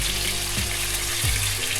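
Pork pieces brown in a frying pan with a dense, steady sizzle at close range and a low hum underneath, all at an even level throughout.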